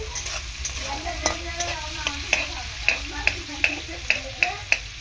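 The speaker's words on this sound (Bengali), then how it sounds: "এই যে চিংড়ি মাছটাকে ভেজে নেব প্রথমে" Prawns coated in turmeric fry in hot oil with a continuous close sizzle, while a utensil taps and scrapes the pan in a regular rhythm, roughly twice a second toward the end.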